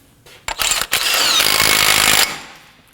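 Power tool, likely an impact wrench, snugging an axle nut on a Nissan Murano during front control arm work: a couple of short bursts, then a loud sustained rattling whir lasting about a second and a half, close up.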